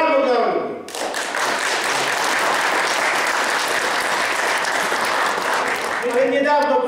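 Audience applause at a social justice congress in Warsaw, a dense sustained wave of clapping from a large crowd, loud and steady for several seconds after a voice on a loudspeaker.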